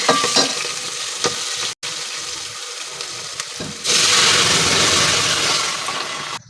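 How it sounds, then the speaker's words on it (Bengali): Green chillies fry in a hot oil tempering for dal, already seasoned with salt and turmeric. A close, crackling sizzle briefly cuts out, then swells louder and fuller before easing off. "আর এখন কাঁচামরিচ দিয়ে বাগারটা দিয়ে নেব।"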